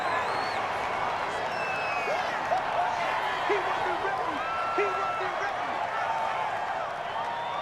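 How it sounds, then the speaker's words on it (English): A large crowd roars steadily throughout, a broad, sustained cheer with some whistles rising above, in a stadium in the Madden 21 American football video game, Kansas City Chiefs vs Buffalo Bills. "Here comes a big one as this crowd gets up making some noise."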